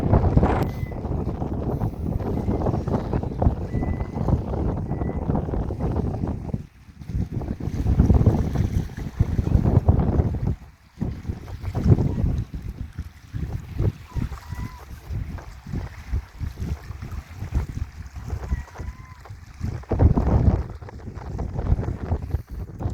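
Strong wind gusting at Fairlie Bay, buffeting the microphone in heavy rumbling bursts that swell and drop with brief lulls, loud and close throughout.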